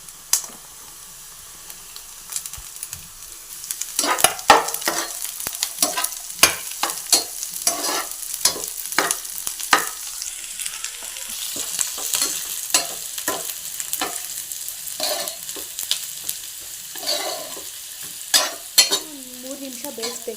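Carrots and beans stir-fried in a pan for vegetable fried rice: a steady sizzle broken by repeated clattering strokes of a spatula, close and moderately loud, with no talking.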